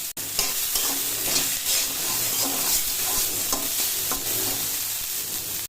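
Radish greens sizzle and crackle steadily in a hot pan while a spatula stirs and scrapes, close and continuous.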